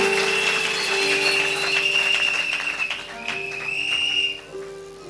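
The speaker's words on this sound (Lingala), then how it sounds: "Acclame bien fort." A church congregation at a Sunday service claps loudly in a steady, dense burst, with sustained musical tones underneath, fading near the end.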